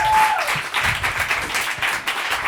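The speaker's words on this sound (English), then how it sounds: "Everyone give a round of applause for me and welcome Christian up to the stage." Audience applause at a comedy variety show, a short burst of clapping from a small crowd heard close by and fading slightly over a couple of seconds.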